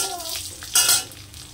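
Dried red chillies and green chillies tossed with freshly fried coconut in a hot pan, sizzling and being stirred, with a brief louder scrape-and-hiss burst in the middle.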